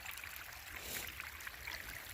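A stream runs below a waterfall along a forest hiking trail, a faint steady rush and trickle of water with no voices.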